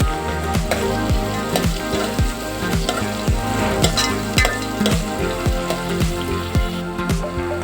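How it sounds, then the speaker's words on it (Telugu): Chopped onions fry in hot oil already holding mustard seeds, cumin and green chillies, with a loud continuous sizzle broken by rhythmic scraping of a spoon against the pan. "తరిగిన ఉల్లిపాయలు వేసుకోవాలి."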